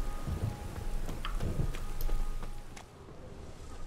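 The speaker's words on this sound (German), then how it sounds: "Ich muss verrückt sein, in diesem Regen rumzulaufen." Steady rain falls in The Witcher 3 with low rumbles of thunder rolling underneath, a continuous wet hiss with a few soft thumps, no voices.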